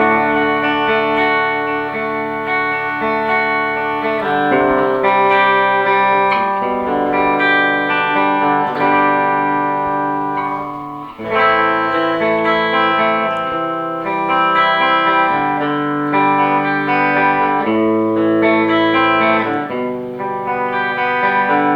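Elysium Rebel electric guitar played on the bridge pickup through effects, chorus and distortion, ringing out sustained chords and notes for about twenty seconds, with a short break near the middle and no talking.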